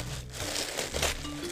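Wax paper wrapped in several layers around year-old Christmas cookies in a holiday snowman tin crinkles and crunches close up, in a quick series of papery rustles with no voices.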